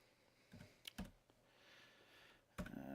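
Typing on a Commodore 64 computer keyboard, a few sparse, quiet key clacks spread irregularly over a few seconds, close up against a low background hum.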